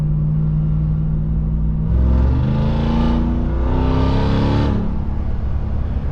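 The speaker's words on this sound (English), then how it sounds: "From the time I hit the pedal to when I can feel the RPMs just revving all the way up." A pickup truck engine with a throttle controller fitted revs up loudly from a steady idle rumble, rising in two strong surges close by.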